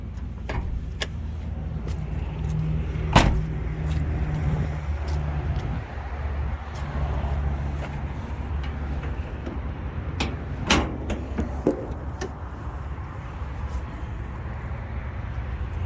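A 1985 Toyota Land Cruiser FJ60 engine idles steadily with belts turning under the hood, a continuous low rumble broken by several sharp clicks and knocks, heard close by.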